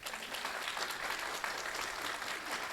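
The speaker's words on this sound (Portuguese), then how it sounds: "pessoal, uma salva de palmas" An audience at a spiritist conference bursts into steady, dense applause, a continuous crackle of many hands clapping that fills the whole moment at even loudness without any voices.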